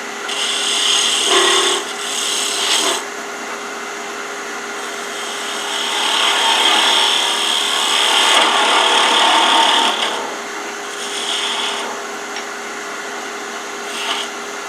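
A straight tool cuts a wooden chess pawn spinning on a wood lathe, giving a loud, steady scraping rasp that swells and eases across several passes with brief pauses between them.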